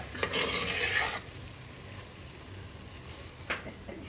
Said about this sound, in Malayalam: ഇങ്ങനെ എടുത്ത് നമ്മൾ ഇളക്കി കൊടുക്കുക.